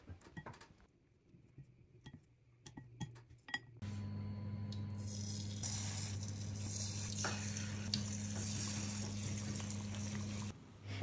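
Flour-coated tuna seaweed rolls drop into hot oil after a few quiet kitchen clinks, then a loud, steady sizzle of frying runs continuously with a low hum underneath.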